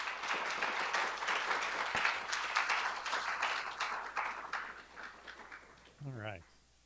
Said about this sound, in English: Maybe we could have a round of applause for all of our presenters